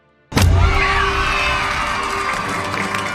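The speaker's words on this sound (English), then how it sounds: "They used a fucking Five Nights at Freddy's, the stock cheer sound effect when they're playing the card game." A stock cheer effect from the Five Nights at Freddy's video game bursts in suddenly after a brief silence, with a loud crowd of children's voices shouting and whooping, then holds steady and slowly fades slightly toward the end.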